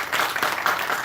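Audience applause for a lecturer at a Korean seminar on counseling and duplication, a dense, steady wash of many hands clapping throughout, fairly close and full, with no talk over it.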